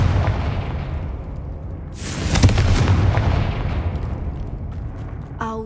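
A Confringo fire spell exploding in the Hogwarts Legacy video game, a sudden broad boom about two seconds in that rumbles and slowly fades over a dense low background.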